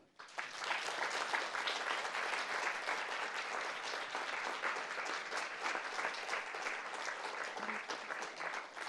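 A crowd at a White Ribbon award ceremony breaks into applause, rising quickly from near silence into sustained, even clapping that continues without letting up.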